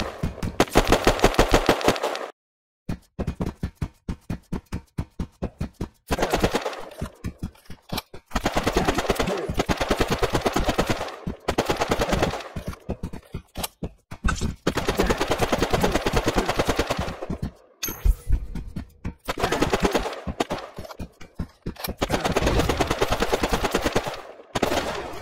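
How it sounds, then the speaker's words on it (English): An assault rifle fires in a video game shooter, loud rapid automatic bursts crackling across the scene in repeated volleys separated by brief silent pauses. "Let's see how it feels to shoot around with an assault rifle."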